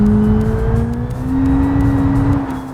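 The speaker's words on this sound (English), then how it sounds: "this engine is way too loud" A loud, steady engine drone from a Civetta LeGran car in the video game BeamNG, with a constant hum that rises slightly in pitch, with no talking.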